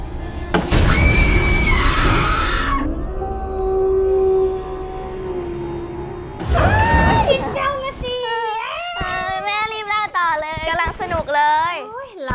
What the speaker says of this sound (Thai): หนูน้อยหมวกแดงตกใจมาก ร้องตะโกนเสียงดังช่วยด้วย